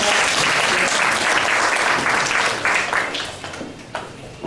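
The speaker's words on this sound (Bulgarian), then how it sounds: "Аплодисменти." Sustained applause from a crowd, many hands clapping loudly and evenly before gradually thinning out toward the end.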